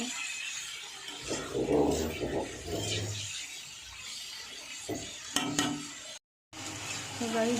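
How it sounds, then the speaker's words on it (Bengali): Eggs fry with salt in a pan at home, a soft continuous sizzle with occasional stirring clinks and scrapes, quiet voices now and then, and a brief cut near the end. "দেখো আমার ডিমগুলো বেশ সুন্দরভাবে ভাজা হয়ে গেছে"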